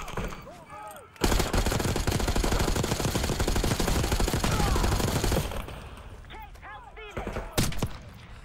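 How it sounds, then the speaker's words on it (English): Sustained rapid automatic gunfire in a Call of Duty: Black Ops 6 match, loud and continuous for several seconds, then tapering into scattered shots while players talk over it. "That's just shooting at me."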